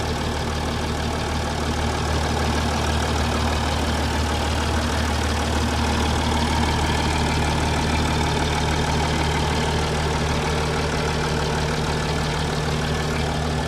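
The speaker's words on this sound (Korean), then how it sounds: "제 목소리 빼고 엔진 소리만 들으실 수 있게 녹음해 봅니다" A car engine idles steadily with a low, even rumble and faint ticking, heard close up with no voices throughout.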